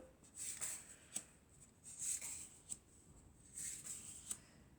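Tarot cards are shuffled by hand in three short riffling bursts, each ending in a crisp snap as cards are squared or drawn, close and quiet with no talking.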